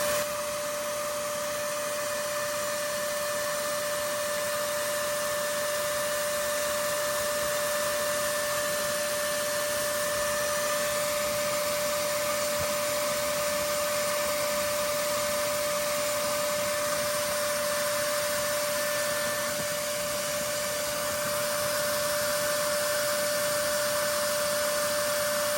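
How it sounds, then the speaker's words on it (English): A vacuum hose sucks yellowjacket wasps from a colony under a deck, its motor whining loudly and continuously with a steady tonal hum throughout. "This forces them toward our vacuum hose, which speeds up the collection."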